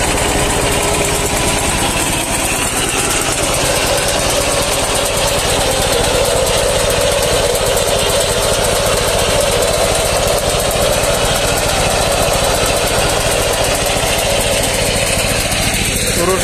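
Shifeng SF-240 mini tractor engine running while digging potatoes with a conveyor digger, a loud, steady, rapidly pulsing diesel chug close by, continuous throughout.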